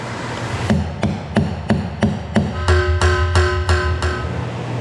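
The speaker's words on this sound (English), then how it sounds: "I do have this little hammer and a little screw that might be able to get us started with the punch" A small hammer taps a metal punch while working on a bulkhead fitting: about ten sharp, close metallic strikes, spaced unevenly at first, then coming faster and ringing more toward the end.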